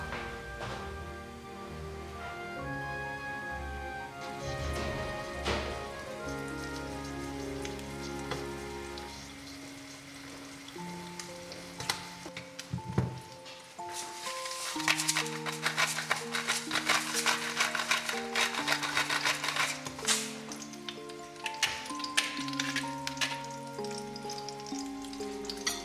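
Duck meat frying on low heat in a pan, a steady close sizzle and crackle running throughout over soft background music, growing busier and louder in the second half.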